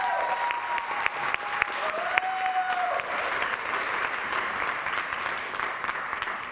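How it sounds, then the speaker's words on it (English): Applause from the crowd at a USA Taekwondo poomsae competition for 12 to 14 cadet divisions, dense continuous clapping filling the hall, steady throughout with faint crowd noise beneath. "Let's give them a round of applause."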